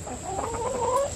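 Backyard chickens cluck and murmur close by, a continuous soft warble of overlapping hen calls over a steady high-pitched background tone.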